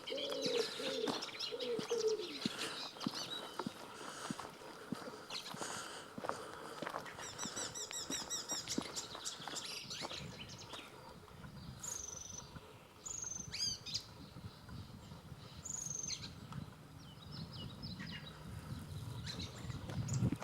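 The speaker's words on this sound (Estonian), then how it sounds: "Mis lind see on, ma ei tea." An unidentified bird calls repeatedly in the park of Olustvere manor in Estonia, with cooing and sharp chirps scattered over quiet outdoor ambience, fairly close but soft, without any speech.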